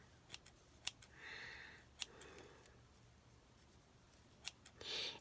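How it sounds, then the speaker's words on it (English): Scissors snipping threads of Dollar Tree burlap and lace ribbon, a few crisp close clicks and short soft cutting rasps spread irregularly over a very quiet background. "you can go in here and you can cut these threads"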